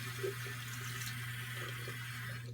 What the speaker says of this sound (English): I think I might even add a little bit more water.